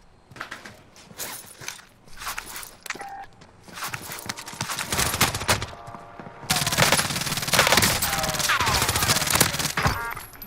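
Shooter game gunfire in irregular bursts of sharp shots that thicken into sustained rapid automatic fire, close and loud, with faint footsteps in between.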